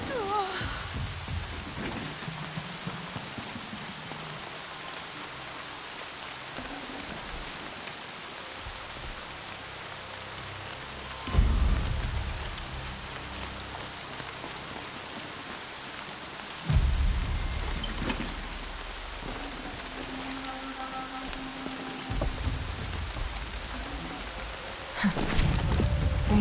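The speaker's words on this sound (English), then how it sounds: "Rain's not so bad." Steady rain pours through the game Horizon Zero Dawn, with several deep thunder rumbles breaking in at intervals over the constant downpour.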